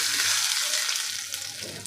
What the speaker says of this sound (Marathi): छान अशी चुरचुरीत फोडणी आपल्याला ह्या चटणीवर ओतून घ्यायची आहे